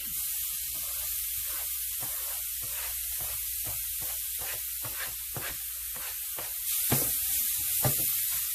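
Salted codfish hitting hot oil in a pan for Jamaican ackee and saltfish, giving a steady close sizzle and hiss with scattered crackling pops that grow a little louder near the end, with no talking.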